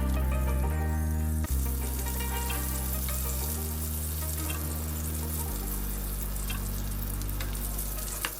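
Puerto Rican relleno de papa, stuffed potato fritters, brown in a pan with a loud, steady sizzle of frying oil up close, with a constant low hum and a brief clatter partway through.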